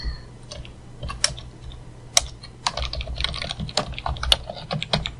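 Steady run of keyboard typing as code is entered on a computer keyboard, clustered clicky keystrokes with brief pauses, close and clear over a low background hum, no speech.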